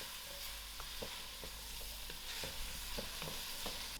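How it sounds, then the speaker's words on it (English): Masala cooking in a pan over low heat keeps up a soft, steady sizzle, with occasional light taps from stirring, quiet and close with no voices. "I'll allow the masala to cook."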